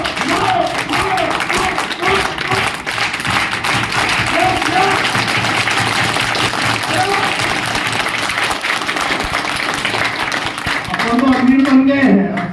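A seminar audience in Latur claps continuously in a dense, loud wave of applause that lasts throughout, with voices talking over and among the clapping.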